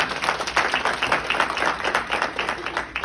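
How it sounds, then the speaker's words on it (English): Audience applause at an indoor gathering after thanks to the cooks, a loud, dense, sustained clapping from a crowd that holds steady throughout. "Let's give them a round of applause."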